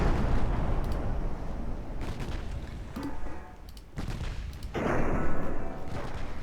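Heavy 10-inch naval guns boom in a dreadnought-era warship game, a dense roar of repeated loud blasts and rumbling impacts with brief lulls between salvos.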